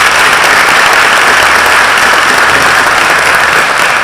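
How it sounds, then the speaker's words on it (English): A steady, dense round of applause from an audience at a chamber of commerce annual meeting, loud and continuous throughout without voices over it. "Let's have a round of applause for them."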